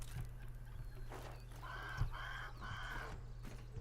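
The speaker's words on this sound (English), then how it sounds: "Oh, I can hear the bird." A bird calls in the Grounded video game: several short, repeated bursts that stand out against a steady low background hum and rumble, at a moderate level.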